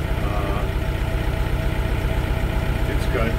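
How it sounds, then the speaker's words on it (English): The TYM 654 tractor's normally aspirated 4-cylinder Deutz diesel idles with a steady low, pulsing chug close by, while someone talks over it. "Deutz diesel in it, 4-cylinder, normally aspirated"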